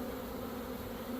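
Honeybees buzzing in a steady, dense drone during a hive install, a close, continuous hum with no pauses over the short stretch.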